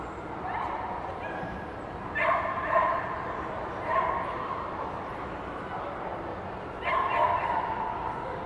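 At a Houston dog show, a Norfolk Terrier gives a few short, sharp barks and yips in separate bursts, set against a busy indoor arena murmur.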